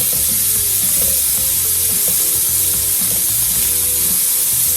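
Shrimp sizzle loudly and steadily in a hot pan as they are flipped one by one, a constant hiss of frying with soft scraping and tapping from the utensil underneath.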